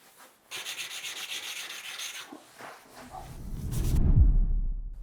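The wooden side of a tool scrapes across tile in a burst of rough, rhythmic rubbing strokes up close, followed by a low rumbling handling noise as it ends.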